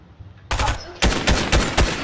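Fortnite gunfire sounds as a loud, sudden opening burst, a brief pause, then a quick series of sharp shots in close succession.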